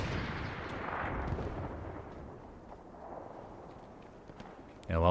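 An MG42 machine gun fires in Hell Let Loose on the El Alamein battlefield amid dense combat: a continuous rumbling roar of gunfire and artillery, heavy at first, then thinning, with a sharp loud burst at the very end.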